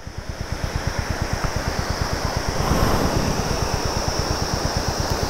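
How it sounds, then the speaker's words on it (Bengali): A hill waterfall near Tinchuley in Darjeeling fills the air with a constant close rushing hiss, while a rhythmic low thudding pulses steadily underneath, with no voices. "এই ঝর্ণার কুলকুল আওয়াজ, তার সঙ্গে এই অ্যাম্বিয়েন্স"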